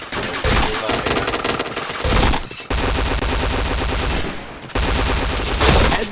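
Rapid automatic gunfire in the video game Point Blank, loud dense bursts of shots in several long runs separated by brief pauses, with no talking.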